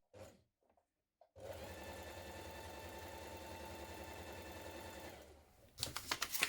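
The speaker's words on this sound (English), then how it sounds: "So you want to set your machine to a long straight stitch, leave your ends running 3, and do these 2 lines of stitches a couple of millimeters apart." A sewing machine runs a long straight gathering stitch, a steady close mechanical whirr for about four seconds, followed by a few brief clicks and rattles.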